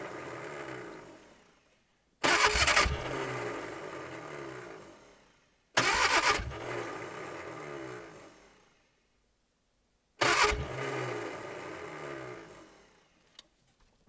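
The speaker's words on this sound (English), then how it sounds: "The starter motor is going to die on us in a minute" A Ford 105E engine that sat for 20 years cranks on its starter motor in three separate loud bursts, each a few seconds of churning that fades off, with quiet pauses between and a short click at the end.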